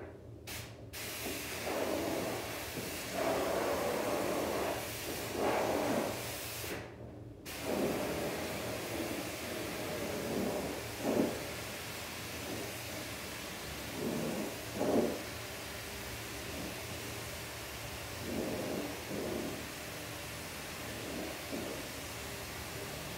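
A spray gun lays a second coat of clear coat onto a car panel on a Celica GT4, giving a steady close hiss that runs almost without pause and swells slightly in soft repeated passes.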